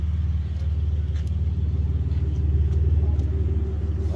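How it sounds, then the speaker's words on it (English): A car with a 3.8-liter engine and a muffler delete idles with a deep, steady, throbbing rumble. It sounds close and constant, with no talking. "He wanted to check out the mufflers and how they sound."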